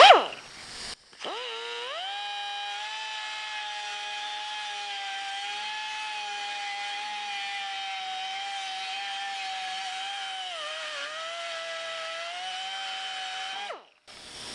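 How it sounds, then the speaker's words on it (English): A Dremel rotary tool cuts a sheet metal patch panel, spinning up to a high steady whine that holds for about twelve seconds with a slight dip in pitch under load, then winds down abruptly, close and clear. "We'll use the little Dremel first"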